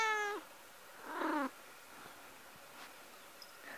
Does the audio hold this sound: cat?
yes